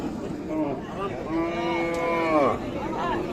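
Cattle at a busy livestock market before the Qurbani sale, one animal giving a long, loud low moo near the middle of the clip amid steady crowd murmur.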